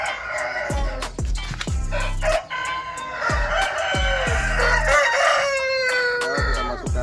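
A Bangkok rooster sick with snot, being handled and dosed with a herbal remedy, gives repeated loud close clucks and crowing-like calls. Sharp low handling thumps and knocks come between the calls, with no talking.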